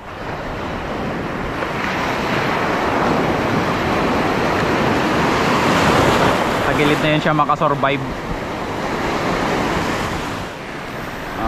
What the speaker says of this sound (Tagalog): grabe kalakas ang alon dito